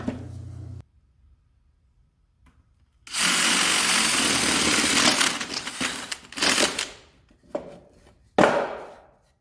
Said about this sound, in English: So I'm just flipping it over, drilling from the other side.